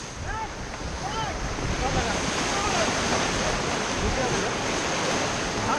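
Rushing white water on the Kolad River near Mumbai as a raft is back-paddled through rapids, a loud steady roar of churning water filling the whole clip, with shouted commands from the raft guide heard faintly over it.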